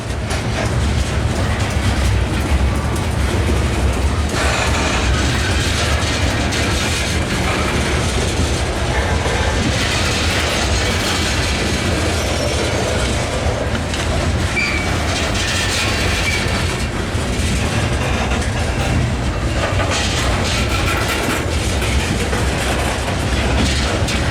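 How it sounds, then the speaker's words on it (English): A CSX coal freight train of 97 loaded cars rolls steadily past with ES44 locomotives at head and rear, a loud continuous rumble and rhythmic clickety-clack of wheels on rail joints throughout. "This train's got 97 loaded cars."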